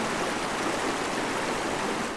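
A wild mountain river, the upper Noguera Pallaresa, rushes steadily with a dense, unbroken roar of flowing water, close and loud, with no voices.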